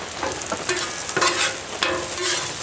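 Onions and potatoes frying on a Blackstone griddle turned up high with grapeseed oil, a steady close sizzle with occasional scraping stir strokes and brief louder crackles.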